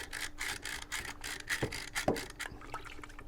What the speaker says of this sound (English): Right, so just by hand, just sort of scrubbing.